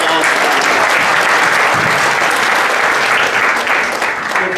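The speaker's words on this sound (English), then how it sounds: "So let's have a little round of applause." Audience applause fills a chamber of commerce annual awards evening, a dense, steady roar of clapping from a sizeable crowd that holds at full strength throughout before easing slightly at the end.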